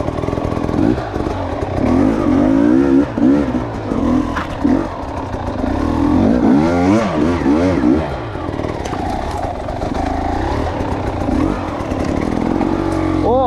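A KTM 300 EXC Six Days two-stroke enduro motorcycle being ridden, its engine revving and droning loudly up close with rising and falling pitch and some rattling clatter throughout.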